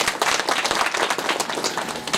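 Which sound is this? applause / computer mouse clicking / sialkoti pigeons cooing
applause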